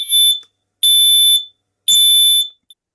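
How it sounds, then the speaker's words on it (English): A smoke alarm blares three loud, piercing beeps, each lasting about half a second with short silent gaps between them. "We also alert to other sounds like smoke alarms."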